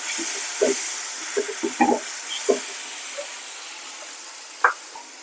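Curry leaves and pounded onion-chili paste hit hot oil while cooking a gongura dish, giving a loud, steady sizzling hiss with a few clinks of a spoon against the pan.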